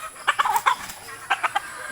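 Fighting roosters cluck in two quick bursts of short, sharp calls separated by a pause, moderately close, with no talking.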